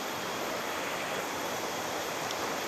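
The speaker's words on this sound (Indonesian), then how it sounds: "Di dalamnya itu ada air mengalir" Water rushing through a large bamboo pipe at a historic site, a steady dense broadband gush with no breaks, loud and close, no voices.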